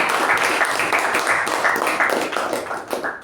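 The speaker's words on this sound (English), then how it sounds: "let's give her a round of applause" A meeting audience gives an evaluator a round of applause: close, fairly loud clapping from a modest group, with individual claps audible in a brisk, uneven rhythm that tapers off at the end.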